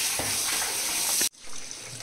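Water runs and gushes steadily from soaked, freshly washed chana dal sitting in a strainer, cutting off abruptly before a quieter trickle resumes.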